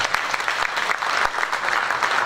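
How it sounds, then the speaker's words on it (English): An audience applauds at a graduate studies commencement ceremony: a dense, even burst of many hands clapping, moderately loud and sustained for a couple of seconds, with a few sharper claps standing out. "Let's give them a round of applause."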